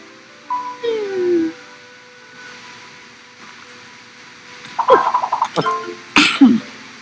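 A few short coughs and throat sounds, close by, in quick bursts near the end, after a brief tonal sound at the start.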